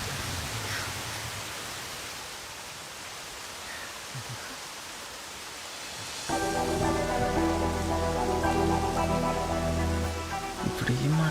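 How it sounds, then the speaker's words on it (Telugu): Steady rain hisses and patters on a surface for the first six seconds, then gets buried under a louder stretch of layered music, with a voice briefly audible in the wash. "వర్షం చాలా చల్లగా ఉంది కదా."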